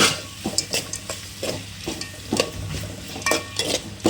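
A spoon repeatedly scrapes and stirs through thick Andhra-style masala khichdi with potato and tomato in a pot, with irregular metallic knocks and scrapes over a low background sizzle, close and without talk.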